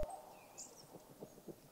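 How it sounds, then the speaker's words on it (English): An owl hooting: a sharp click, then a short series of soft, low hoots spaced through a quiet moment, heard alone. "Owl."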